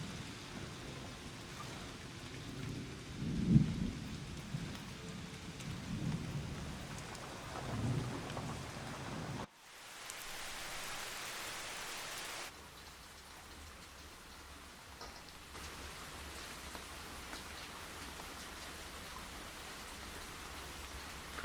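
Steady rain with rolling thunder, a loud rumble early on, then a sharp cut to quieter, softer rainfall that carries on without voices.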